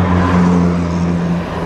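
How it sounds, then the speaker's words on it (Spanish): Motor traffic rolls steadily past on a city street, a continuous near engine drone with low tonal hum from several cars and trucks, no voices. "Carros locos."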